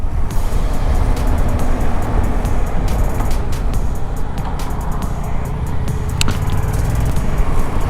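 A Yamaha MT-07 motorcycle ridden fast along a road in the evening, its engine and rushing wind blending into a loud, steady roar that barely changes across the whole stretch.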